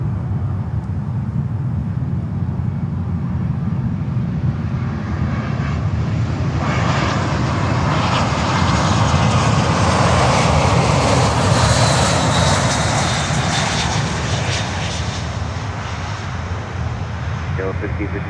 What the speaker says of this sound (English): Next inbound, American Airlines 321.